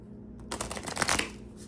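Moonology oracle cards are riffled in one quick, close shuffle lasting about a second, then fall quiet.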